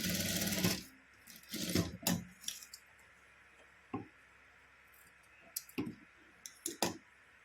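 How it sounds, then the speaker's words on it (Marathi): A sewing machine stitches small fabric pieces for a blouse tassel in short, close clattering bursts, with a longer run at the start followed by scattered brief clicks and pauses. No one speaks. "त्याला आपण 2 बाजूंनी शिलाई मारून घ्यायची आहे."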